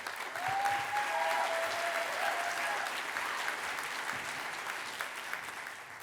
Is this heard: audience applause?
yes